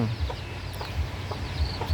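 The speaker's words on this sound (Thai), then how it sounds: "ลูกไก่ ลูกไก่ชนผมครับ" Fighting-cock chicks cheep beside a pig pen, with scattered short high peeps and soft clucks over a low background murmur, at a moderate distance.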